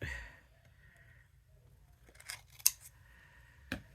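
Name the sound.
cutting paper for a Christmas card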